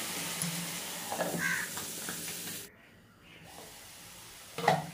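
Drumstick flowers and potatoes frying in a covered pan, a soft continuous sizzle with faint stirring scrapes that drops away briefly, then returns with a sharper clatter near the end.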